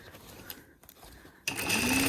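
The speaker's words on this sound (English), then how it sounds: "sew all the way along, making sure your sleeve stays straight for the whole process" Close sewing machine stitching a coat sleeve seam: a softer run with a brief pause, then a louder, steady high-speed whir to the end.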